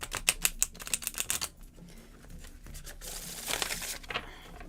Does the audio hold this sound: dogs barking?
no